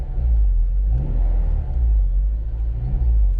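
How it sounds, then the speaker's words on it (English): Honda Civic Si engine with new motor mounts, heard from inside the car as a steady low rumble with a mild rev rising and falling, loud and close with no talking. "if I give it gas, definitely hear more engine noise"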